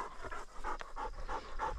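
Hunting dog panting rapidly and steadily up close after retrieving a bird during a North Dakota sharptail and Hungarian partridge hunt, rhythmic breaths with no talk.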